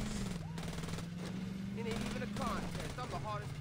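Rapid gunfire in the Saints Row video game crackles in bursts over a continuous low vehicle engine hum, with someone talking over it.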